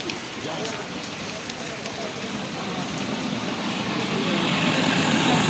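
Rain falling outside a crowded tea stall in Lal Market, a dense steady patter on surfaces with a low idling engine underneath, growing slightly louder, with no clear voices.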